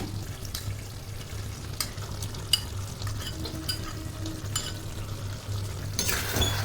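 Chicken frying over high gas with cashew-almond-chilli paste gives a steady close sizzle and spatter, with repeated scraping stirs and spoon taps against the pan at an irregular pace, and nobody speaking.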